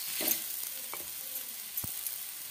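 Gram flour batter pancakes frying on a hot griddle, a quiet steady sizzle with a few soft scraping and tapping touches from a spatula, no talk.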